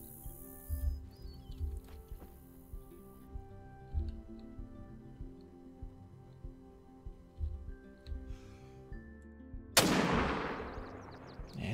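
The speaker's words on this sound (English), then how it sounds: "He's perfectly broadside. He's 190 out there. We can actually take that shot." Single sharp rifle shot fired at a pronghorn in the hunting game theHunter: Call of the Wild, a loud crack near the end after quiet ambient ticks and soft thumps.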